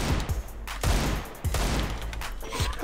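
Desert Eagle pistol fire in the video game CS:GO: several heavy single shots spaced about half a second apart, each a loud close crack with a booming tail, over steady game ambience.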